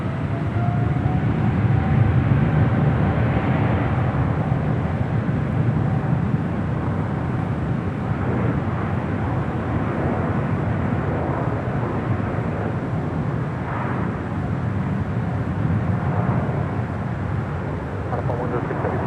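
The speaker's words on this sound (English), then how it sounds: "Air France Flight 65 heading back to Paris in this 777-300ER" An Air France Boeing 777-300ER heavy jet departs LAX with a broad, steady engine roar that holds loud and continuous throughout, while faint radio chatter runs underneath.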